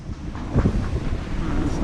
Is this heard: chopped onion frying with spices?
no